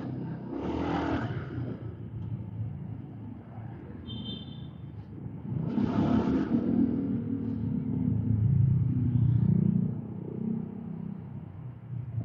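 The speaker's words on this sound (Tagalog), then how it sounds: "Wet traffic dito." Steady traffic hiss and rumble of cars passing on a wet road, with swelling tyre-spray surges around the middle and toward the end, fairly close and continuous, with no talking.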